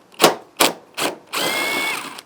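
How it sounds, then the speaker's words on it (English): Power tool with a 10mm socket removing a bolt from a Toyota Tacoma bumper: three short whirring bursts followed by a longer steady spin, close and clear with no talk. "Let's go ahead and remove the bolt that's right here up top."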